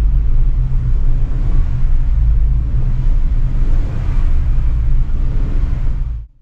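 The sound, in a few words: Subaru WRX S4 engine revving in neutral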